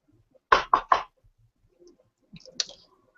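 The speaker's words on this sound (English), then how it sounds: "I knock on the door." Three quick, firm knocks on a door sound close and clear in a quiet space, followed by faint soft shuffling.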